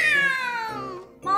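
A person's voice imitates a startled cat's meow, a loud, close, drawn-out cry that falls in pitch, then breaks off and rises again briefly at the end.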